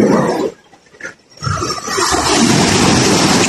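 Seawater from a tidal wave surges in, a short burst, a brief lull, then a rising, sustained loud rushing roar of churning water close by.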